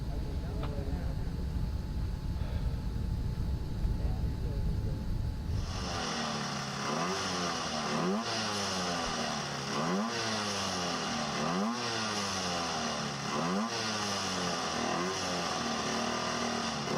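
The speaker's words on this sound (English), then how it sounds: "High Desert Racers Club entry, sporting a 1955 vintage Harley Davidson." A 1955 vintage Harley Davidson motorcycle racing on El Mirage dry lake, its engine revving through repeated rising gear pulls, loud and fairly close, after a stretch of low rumble and announcer talk.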